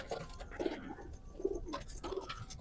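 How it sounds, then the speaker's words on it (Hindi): Fancy pigeons coo softly and repeatedly, with several low, rounded calls spaced through the moment and faint background noise around them. "खूबसूरती के बादशाह कबूतर हैं ये"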